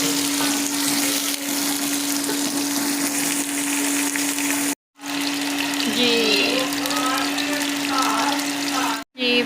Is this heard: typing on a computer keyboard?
no